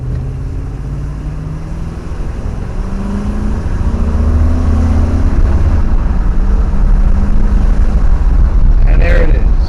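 1968 Pontiac Grand Prix accelerating hard toward 60 mph, a loud sustained engine roar rising in pitch through the gears over about ten seconds, heard from inside the car.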